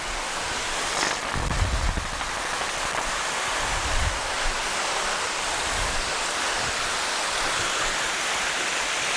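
A waterfall at Hanging Rock State Park in North Carolina, heard from the top of the falls: a continuous broad rushing roar of falling water, steady and close, with faint low thumps.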